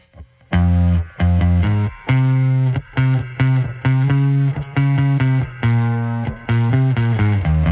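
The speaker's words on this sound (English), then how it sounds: "So there's a dry bass that has a little distortion on it." Dry electric bass with a little distortion plays a punchy riff of short repeated notes, loud and close with brief gaps between phrases and no talking.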